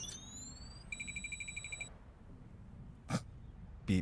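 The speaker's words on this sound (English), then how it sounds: "There was a blinding flare of light and the sound of an alarm." Alarm beeping in the Girls Frontline 2 video game during a self-destruct countdown: a falling electronic tone, then a rapid run of about ten even beeps, followed by two short bursts of impact-like noise.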